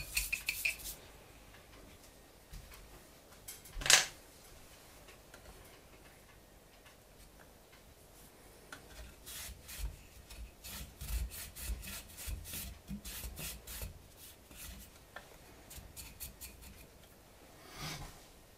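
Parts of a Ruger 10/22 rifle scrubbed with a coarse paintbrush and WD-40, giving quiet, rapid bristly scratching strokes in bursts, with a sharp clatter near the start and faint background noise.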